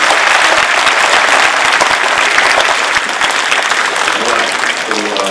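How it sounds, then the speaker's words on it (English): Sustained audience applause at a Heartland Purple Star Award ceremony, dense steady clapping filling the room throughout and tapering slightly toward the end. "Let's give it a round of applause"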